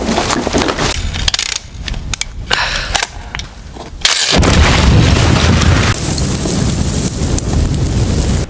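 A heavy explosive blast breaks through a wall, a loud boom after a stretch of wind-buffeted rumbling and scattered knocks, followed by sustained roaring noise and debris.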